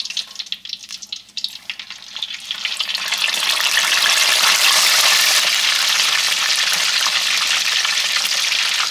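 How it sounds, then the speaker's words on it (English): Philly cheesesteak egg rolls dropped into a pot of hot frying grease, a quiet bubbling at first that swells into a loud, steady sizzle and crackle, with no voices. "we got our grease going. We just gonna add them in."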